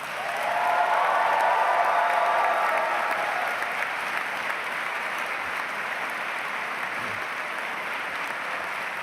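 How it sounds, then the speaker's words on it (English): Loud, sustained applause from a large crowd of graduates at a university commencement ceremony, steady and dense throughout, swelling early and then holding at a strong level. "give an absolutely thunderous round of applause for your parents and all they have done for you"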